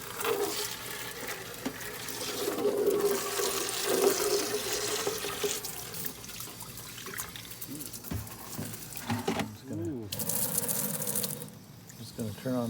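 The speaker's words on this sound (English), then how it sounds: "So we'll just rinse that out." Water rinses into a bucket and drains away, a continuous running, splashing wash that shifts in tone and level. A person talks intermittently over it.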